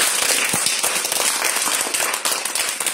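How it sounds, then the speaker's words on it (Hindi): An audience at a school quiz-show event claps loudly for a class 5 student, a dense, continuous burst of many hands applauding that is close and sustained throughout. "इनके लिए जोरदार ताली बजा दीजिए"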